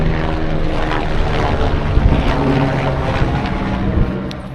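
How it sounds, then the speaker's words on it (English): A steady, loud engine drone with rhythmic rotor throbbing, a helicopter passing close overhead at Everest Base Camp and holding its level throughout. "we're on the path of all the helicopters. Here comes one now."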